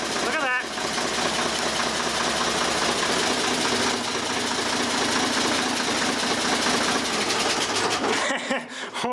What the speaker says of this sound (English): This thing requires a lot of power to crank over.